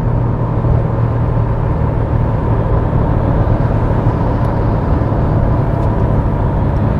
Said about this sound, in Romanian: Vedem și frâna de motor în treapta a patra.